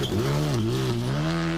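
Henning Solberg's rally car heard on board at the ERC Royal Rally of Scandinavia: a loud, close engine that rises and falls in pitch, revving hard throughout the short burst.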